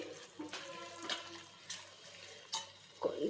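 Water is poured into a pot of meal maker and egg curry in a quiet, uneven stream, with a few faint splashes and soft liquid sloshing.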